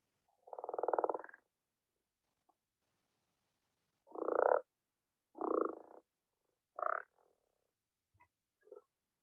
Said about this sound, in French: elle a un chant également plutôt grave aussi, la grenouille rousse